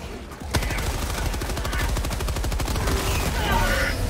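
Sustained rapid automatic gunfire in Helldivers 2, a dense loud fusillade of machine-gun bursts that starts suddenly and continues without pause, with a voice speaking faintly beneath.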